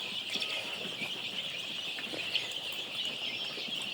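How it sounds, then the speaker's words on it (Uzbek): Young chicks on a poultry farm peep in a steady, overlapping chorus of high-pitched chirps, continuous and moderately close against faint background noise, with no talking. "Senda jo'jalarimiz."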